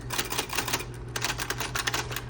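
A 1970s Electra 220 typewriter clatters with a rapid series of sharp mechanical clicks and key strikes, close up and continuous, with no voices.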